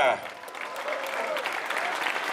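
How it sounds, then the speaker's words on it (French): A crowd at the Tour de Romandie 2018 cycling podium ceremony claps for the race winner, a steady rush of applause filling the short stretch just after a voice fades out. "Applaudissements pour le vainqueur du Tour de Romandie 2018."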